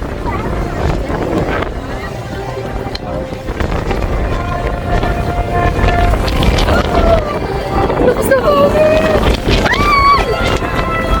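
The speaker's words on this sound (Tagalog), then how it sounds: "Oh my gosh, ang lakas ng hangin." Strong gusty wind buffets the microphone at Golden Bridge in Ba Na Hills, Da Nang, Vietnam, a steady loud roar through the whole stretch with crowd voices and talking mixed in.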